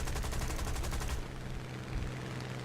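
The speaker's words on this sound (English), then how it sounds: "He's firing at us with his rear 30 cal, so we return fire." Aircraft machine guns firing in War Thunder during a WWII-style air battle, a rapid dense burst of gunfire for about a second, then continuing engine drone and fainter shots.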